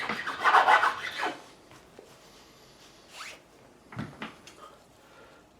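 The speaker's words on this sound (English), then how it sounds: "And the profiling file. So just removing any excess burrs that are on there." A profiling file rasps across the frets of a 2007 Fender Stratocaster being re-fretted, clearing burrs in a loud opening burst of close, rough strokes, then fainter, scattered scrapes and taps.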